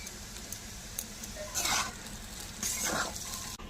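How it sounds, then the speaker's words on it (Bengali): Maggi chow mein noodles tossed with Maggi masala in a pan, with steady sizzling and two louder bursts of scraping stirring, close and with no voices. "এবার একটু ম্যাগি মশলা দিয়ে আবার একটু নাড়াচাড়া করে মিশিয়ে নেব"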